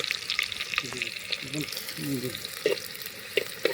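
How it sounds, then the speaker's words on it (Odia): Onion and green chili frying in a pan for a potato curry, with a steady broadband sizzle, scraping stirs and a few sharp pops, close by and continuous, with faint voice fragments underneath. "ଆଉ ଏଥିରେ ପଡ଼ିବ ପିଆଜ ଗୋଟେ ପିଆଜ ପଡ଼ିଲା। ତାକୁ ଏବେ ଭଜା ହେବ।"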